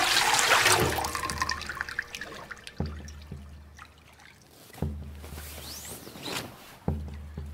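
Bathwater sloshes and splashes in a tub for a radio drama of Aeschylus' Agamemnon, a loud swirl at the start followed by several separate slops and drips with quiet gaps between.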